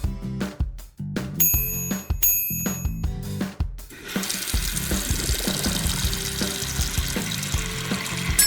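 Water runs from a faucet, first in short uneven bursts and splashes, then as a steady, continuous gushing stream, with a brief bright ringing tone early on.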